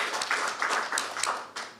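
Scattered audience clapping at a Julia programming conference session closing out the quantum talks, a brief, loose patter of hands that rises in a few bursts and fades out.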